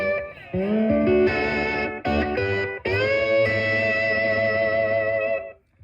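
Sustained electric guitar chords ring out with effects and distortion, shifting between a few voicings before fading out.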